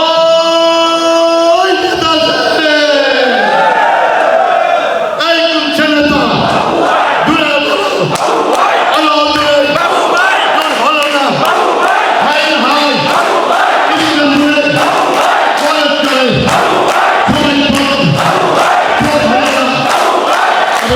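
A large crowd at a Krishak Dal rally in Islampur chants slogans loudly and rhythmically, massed voices rising and falling in repeated bursts with a leading voice calling out over them.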